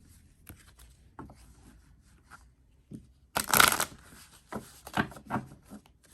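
Soft riffling and slapping of tarot cards being shuffled in a few quick bursts, close and fairly quiet, with light handling noises between.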